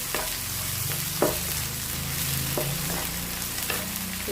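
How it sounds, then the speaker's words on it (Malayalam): Food fries in hot coconut oil, giving a continuous close sizzle broken by a few sharp crackles and stirring clicks, with no voices. "അത് നമുക്ക് ഇതിലിട്ടെടുത്തിട്ട് നല്ലോണം ഒന്ന് പൊരിഞ്ഞ് കിട്ടട്ടെ"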